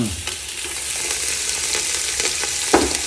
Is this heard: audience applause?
no